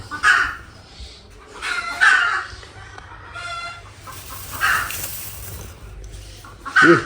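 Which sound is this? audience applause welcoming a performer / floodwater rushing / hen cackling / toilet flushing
hen cackling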